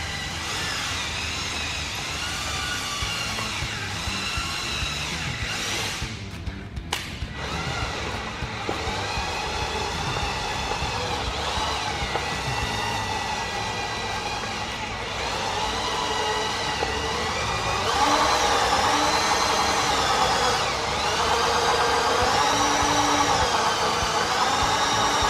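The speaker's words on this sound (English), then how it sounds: "now that we know that this motor, transmission, gearbox, hydraulic thing works" A Sabb marine engine with a hydraulic gearbox runs steadily aboard a sailboat, a continuous droning mechanical hum close by that shifts in pitch and grows louder partway through, with no voices.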